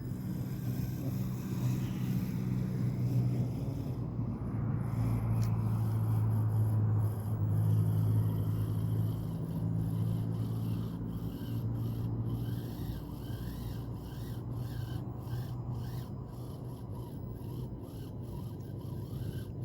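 A small-scale SCX30 Chevy K10 RC crawler creeps at low throttle through loose sand at a gravel pit, giving a continuous close gritty rasping and soft motor whir that stays even for the whole stretch.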